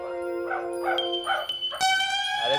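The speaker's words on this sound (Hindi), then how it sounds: "भौंक रहा कुत्ता।" A dog barks several times in quick succession at a middle distance, the barks set against sustained musical tones from a TV drama scene and ending with a longer whining bark.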